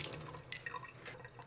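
Rice rinse water strained out of a jar, heard as soft dripping and trickling liquid with small splashes into a sink, fairly quiet and continuous, no voices.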